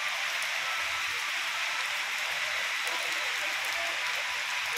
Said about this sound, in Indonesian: Hari hujan lebat